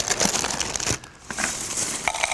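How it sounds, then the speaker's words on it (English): Dry cereal is tipped into a blender, giving a loud continuous rustling, crinkly hiss that dips briefly and then resumes, with no talking. "about a cup of cereal,"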